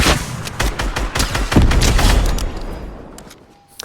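Rapid explosive blasts ring out in a Fortnite match as a rocket launcher fires amid other weapons. The crackling reports come in a dense volley, then trail off into quieter, scattered shots.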